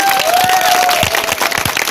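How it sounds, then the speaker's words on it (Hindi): A crowd applauds a child at an outdoor street play on hygiene and sanitation, with steady dense clapping throughout and a faint tonal whine running through the first half. "सब ताली मारो, बच्चे ने बहुत अच्छा बताया।"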